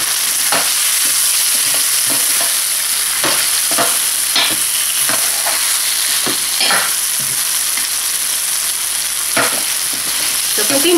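Hard squash pieces for pinakbet cook in a hot pan, with a loud continuous sizzle and repeated spoon scrapes and stirs spread throughout, close up and without speech.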